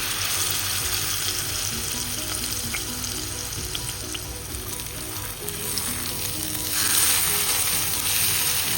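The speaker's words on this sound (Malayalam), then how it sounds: "ശാലോ ഫ്രൈ ചെയ്തെടുക്കുക." Fish shallow-frying in coconut oil in a pan crackles with a loud, continuous sizzle that swells brighter near the end, with no talking.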